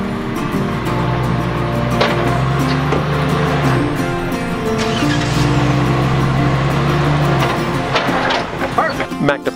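An ARB Jeep on KM3 tires crawling the rocky off-road Rubicon Trail in the Sierras, a steady close engine drone that rises and falls, with scrapes and knocks toward the end and voices talking over it.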